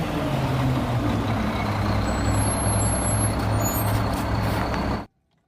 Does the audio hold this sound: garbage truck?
yes